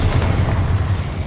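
Bombarda explosion spell in the Hogwarts Legacy game: a loud, close booming blast with heavy low rumble and noisy debris crackle, sustained for just over a second, with no voices.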